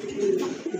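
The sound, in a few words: pair of Indian Lotan pigeons cooing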